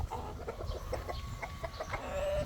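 Six-month-old stags, young Black Kelso over White Choco roosters, cluck and call in a farmyard pen, several birds making irregular close chatter with brief clucks and a short squawk, over a low outdoor hum.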